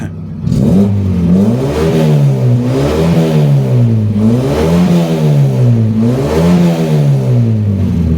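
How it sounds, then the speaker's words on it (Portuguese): A car with a Volkswagen AP engine revved at home after an oil change. The engine swells and falls back about three times in a close, loud, steady rhythm with no talk. "E para finalizar, dá uma aceleradinha no carro"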